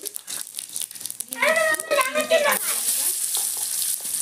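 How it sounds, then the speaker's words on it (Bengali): Cumin seeds hit leftover hot oil from frying fish heads and sizzle in a sharp, crackling burst, with a voice talking over the start before the hiss settles into a steady bright frying noise. "ওই মাছ ভাজার তেলেই দিয়ে দিচ্ছি জিরা ফোড়ন"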